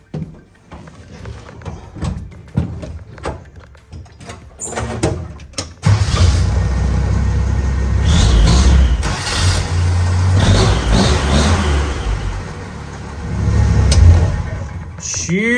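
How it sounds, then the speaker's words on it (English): A vintage Jeep CJ5 with an upgraded starter cranks quickly and fires up, then its engine settles into a loud, steady idle with some revving. Clicks and handling noises come before the start. "We'll hop in the Jeep and see if it starts."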